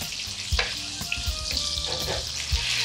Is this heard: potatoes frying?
yes